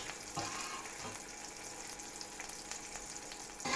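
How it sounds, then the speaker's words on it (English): Bacon braciole stuffed with cheese, breadcrumbs and herbs frying gently in a pan, a steady soft sizzle with faint crackles throughout and no talking. "It's just a gentle fry, you don't want to do it too hard."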